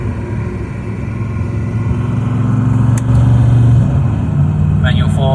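A Holden VZ HSV with automatic transmission drones steadily from inside the cabin, its engine note rising as it shifts down a gear, with a voice talking over it.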